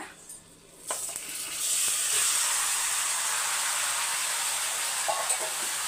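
Masala-marinated chicken dropped into hot oil: a quiet start, then a loud, close sizzle bursts up and holds as a steady hiss, with a few faint clinks of stirring.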